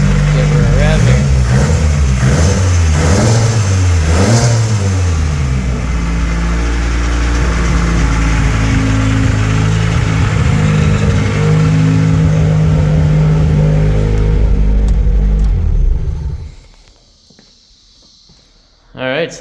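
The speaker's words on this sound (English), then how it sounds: "Give her a rev here." A Nissan 240SX street, drift and track build revs its engine up close in a garage. The loud, throaty idle swells into repeated revs, holds high, then cuts off abruptly, leaving near silence.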